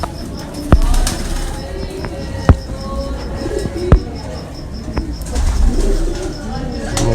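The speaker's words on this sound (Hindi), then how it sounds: "तो ये कसूरी कबूतर जो है वो उनकी छत पे उड़ा" Kasuri pigeons on a rooftop coo steadily against a busy outdoor background, with a few sharp claps or wing snaps standing out and a faint repeating high tone running through much of it.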